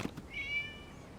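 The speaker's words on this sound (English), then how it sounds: "It was just a cat." A cat in the Genshin Impact video game gives a single clear, drawn-out meow, heard close and alone against a quiet background.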